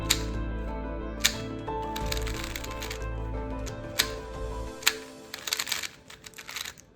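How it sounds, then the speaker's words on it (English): An X-Man Tornado V4 speed cube being turned and solved, producing sharp clicking snaps as corners cut, over a steady hum with a scattered flurry of quicker clacks toward the end. "you will hear a loud snap when you do it, mainly because the cube is so soft but then the corner cutting is so loud"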